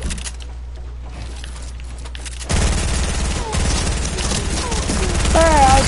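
Rifle fire in a video game rattles out in quick repeated bursts, growing louder and denser after a quieter opening, with game effects layered on top.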